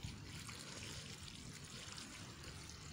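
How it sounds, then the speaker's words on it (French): Garden plants are being watered, a steady trickle and splash of water running continuously at moderate distance with no pauses. "on va veiller à faire un bel arrosage, voilà, comme ici"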